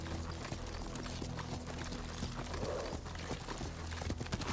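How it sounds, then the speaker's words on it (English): Horse hooves clip-clop at a steady riding pace in the samurai video game Ghost of Tsushima, rhythmic and continuous under ambient game sound. "Lord Sakai taught me to ride a horse"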